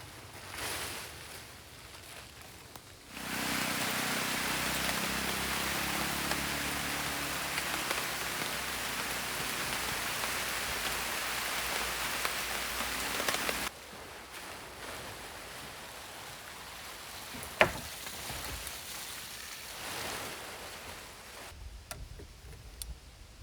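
Steady broadband hiss of rain drumming on a tarp, loud and constant for about ten seconds, then softer patter with a sharp tap near the end.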